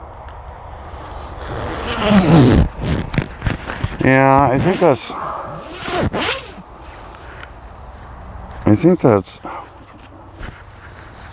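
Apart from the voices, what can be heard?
jacket zipper being pulled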